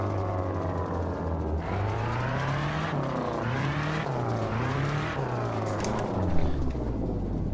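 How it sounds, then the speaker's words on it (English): A rally car engine from the video game Richard Burns Rally drones loudly and continuously, pitch rising and falling as it shifts through gears, with a brief tire squeal near the end. "Tell me if the car audio is too loud."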